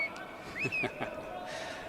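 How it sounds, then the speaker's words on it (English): A curling player whistles on the ice during a rink match, a few short rising and sliding whistle notes over faint arena background with brief voices. "with his trademark whistling"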